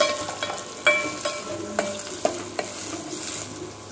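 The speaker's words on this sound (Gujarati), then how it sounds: "એકાદ મિનિટ ડુંગળી સતડાય એટલે બટાકા અને ગાજર ઉમેરી દઈશું." Onion with potato and carrot sautéing in a pan for tomato soup, a steady close sizzle broken by a series of sharp clicks and scrapes from stirring, with no talk.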